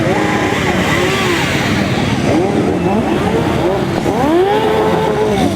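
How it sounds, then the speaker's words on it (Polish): Motorcycles rev and accelerate during a special parade in Gliwice, loud, continuous engine roars with rising and falling pitch sweeps as bikes pass close by, plus crowd noise in the background. "W swojej całej okazałości motocykliści zaprezentowali się podczas specjalnej defilady, a tutaj zdecydowanie było na co popatrzeć i czego posłuchać."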